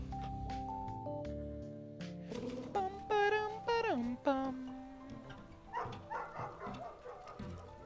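A dog in the video game Night in the Woods lets out a short run of rising, yelping barks midway through, set against steady background game music.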